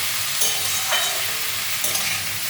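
Food fries in a pan with a continuous crackling sizzle, and a few brief stirring scrapes come through near the mic. No one speaks.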